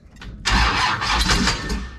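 A 1971 Plymouth Duster big block V8 cranks briefly, then catches and roars to life, running loud and rough up close as the engine settles into a steady, throaty idle.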